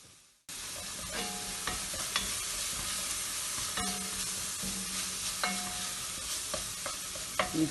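Onions frying in olive oil in a pan, a steady broadband sizzle that starts abruptly and runs continuously, with occasional clinks and scrapes of a utensil stirring, close and moderately loud.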